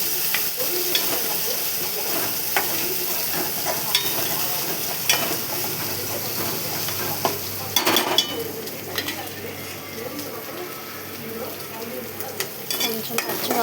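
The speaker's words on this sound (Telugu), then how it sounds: "అల్లం పేస్ట్, కొంచెం పసుపు వేసుకొని కలబెట్టాలి. పచ్చివాసన పోయేదానికి వేయించుకోవాలి." Ginger paste and turmeric fry in a pan with a steady close sizzle while a utensil stirs and scrapes, giving intermittent clinks and scraping bursts over the constant crackle.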